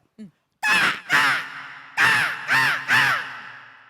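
A voice imitates a common local crow, giving six sharp caws in quick succession, the first one soft and brief, the rest loud and close.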